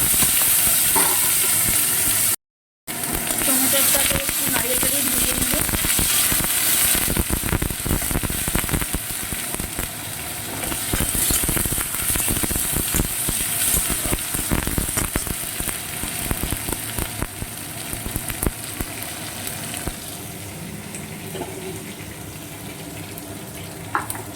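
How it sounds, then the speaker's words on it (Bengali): Chopped tomatoes dropped into hot oil tempered with nigella seeds, a loud hissing sizzle that persists, with stirring and crackle layered over it, gradually settling slightly quieter. "এবার আমি দিয়ে দিচ্ছি এই যে চিড়ে রাখা টমেটো"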